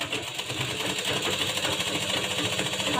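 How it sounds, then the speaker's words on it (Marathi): A sewing machine runs a single line of stitching on a blouse, a steady fast mechanical whir and needle clatter heard close and continuous with no talk. "डबल शिलाई मारायची नाही इथं आपण नंतर डबल शिलाई मारून घेणार आहोत सिंगल मारायची आहे"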